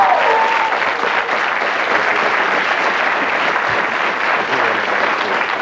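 Studio audience of the 1991 Blockbusters quiz show applauding, a loud, close, continuous burst of clapping that holds steady the whole time, with a brief tonal sound at the start.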